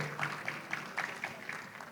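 An audience at a conference on AI and leadership skills applauds, giving a faint, steady run of claps at a regular pace.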